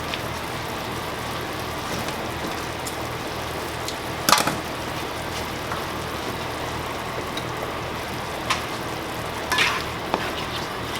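Demi-glace sauce being stirred in a hot pan for steak Diane with mushrooms, a steady close sizzle and bubbling throughout with a few sharp utensil scrapes against the pan, no voices.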